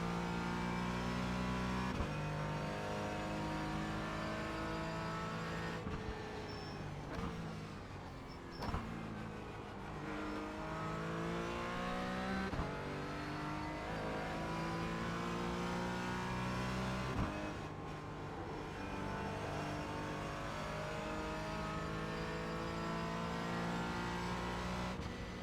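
A GT4 race car lapping Bathurst in a racing game drones its engine loudly and without a break, pitch climbing steadily through the gears, with sharp shift drops every few seconds and brief lifts before it pulls again.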